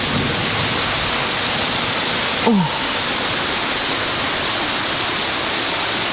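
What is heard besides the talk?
heavy rain pouring down during a storm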